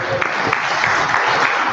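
A seminar audience at a Rotary International District 9112 learning event breaks into steady, dense applause, a broad even wash of many hands clapping throughout without a break.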